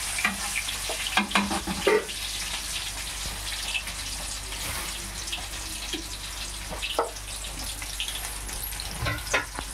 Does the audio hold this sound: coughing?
no